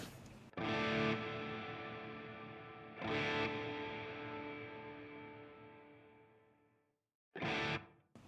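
An electric guitar plays through an effects unit while its reverb time is adjusted. Three strummed distorted chords ring out alone, each trailing off in a long reverb tail, and the tails end at different lengths.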